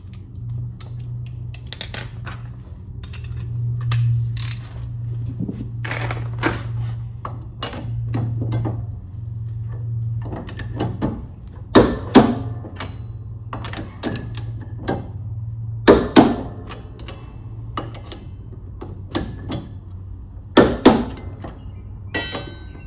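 Torque wrench tightening the wheel nuts on a Husqvarna TS 354XD garden tractor to 75 foot-pounds, heard as scattered metallic clicks, a few sharp ratcheting snaps standing out, over a steady low hum, with no talking.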